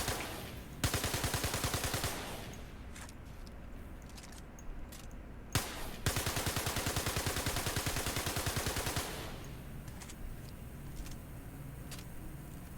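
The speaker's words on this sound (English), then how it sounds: "I'm going to start by shooting this one" Automatic weapon fire in the Star Citizen video game, long rapid bursts of close, loud shots with short pauses between strings, alone without talk.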